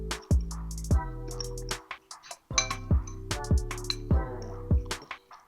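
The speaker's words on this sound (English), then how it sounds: "Just going to mix that around in there." A utensil clinks against the sides of a bowl while tuna is stirred together with lemon pepper, giving bright repeated taps and ringing knocks in irregular bursts, close up, with a short pause near the middle.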